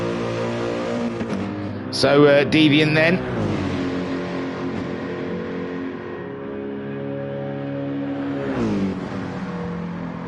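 A race car engine in a GT racing video game drones and revs through shifting gears, with a brief sharper burst of engine noise early on, heard under continuous commentary.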